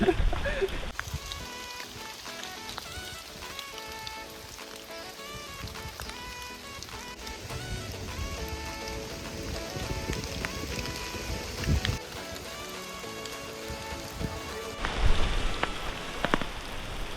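Steady rain falls through the forest along the Doi Hua Mu trekking trail near Doi Pui, Chiang Mai, a continuous close hiss of drops on leaves and ground with a few brief bursts, no talking.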